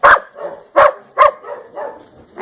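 A dog in an indoor room gives three sharp, loud barks at a steady spacing, with softer whimpering yips in between, heard close and with no talking.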